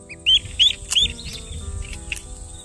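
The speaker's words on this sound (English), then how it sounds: "You're struggling to get out of your egg, are you?" A duckling hatching from its egg on a rural New Zealand property gives several high, thin peeps in quick succession, close and clear over a quiet low background hum.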